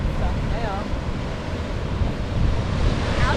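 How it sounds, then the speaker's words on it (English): Ocean waves roll in at low tide below coastal cliffs at Carnarvon, Western Australia, a continuous loud surf wash mixed with heavy wind buffeting the microphone and faint voices in the background. "You can see on the cliffs and stuff all the waves coming in."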